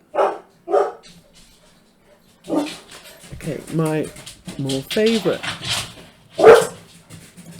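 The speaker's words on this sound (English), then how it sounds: "Sorry about the dog barking." Two short barks from a nearby dog, then someone talks, with another bark-like burst under his speech near the end.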